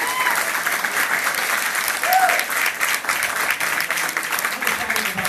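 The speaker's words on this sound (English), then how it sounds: "Give it a round of applause." A corporate event audience gives a round of applause, dense and sustained with some crowd murmur and a voice faintly mixed in.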